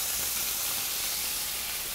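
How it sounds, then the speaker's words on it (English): Beef sizzling in a hot pan with soy sauce, a steady close bright hiss with no other sounds. "if you can just take one little piece of beef and you hear it sizzle"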